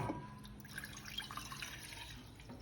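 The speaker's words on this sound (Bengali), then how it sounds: "গুড অ্যামাউন্ট জল দেবেন যাতে এটাকে সাবমার্জ করা যায়।" Water poured into a cooking pan on a gas stove for dalgona candy makes a faint, steady trickling stream heard on its own, fairly quiet and close.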